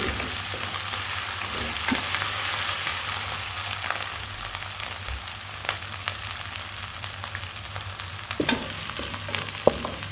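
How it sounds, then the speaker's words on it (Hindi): Ginger-garlic paste sizzles and crackles in a hot pan with a steady frying hiss, broken by occasional scrapes and clicks of stirring. "यहाँ पे मैं अदरक लहसुन का पेस्ट डाल दूँगी। इसको भी 2 मिनट तक हम फ्राई कर लेंगे"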